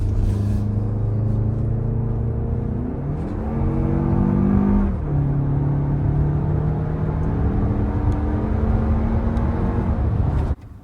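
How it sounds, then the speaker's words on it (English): A 2024 Toyota Grand Highlander Platinum SUV with its standard engine revs up and accelerates hard, a steady loud roar climbing in pitch through several gear shifts before cutting off abruptly. "Let's see those numbers in action for our acceleration test."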